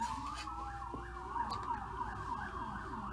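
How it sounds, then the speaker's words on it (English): Loud wailing emergency siren from a passing vehicle outside, its pitch sweeping up and down in steady repeated cycles, heard alone without talk. "It's like no matter what we do for soundproofing, giant loud sirens."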